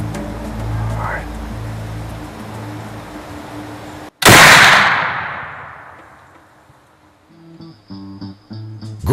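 A single sharp, loud rifle shot rings out during a deer hunt as a hunter fires at a doe, with a long echoing decay that fades over several seconds, preceded by low murmuring voices and followed by faint movement.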